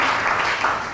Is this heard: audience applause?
yes